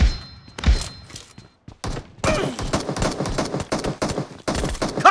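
Gunfire in the mobile battle game PUBG Mobile, a chaotic stretch of rapid automatic bursts and single heavy shots with thuds, loud and close, varying in intensity over a few seconds.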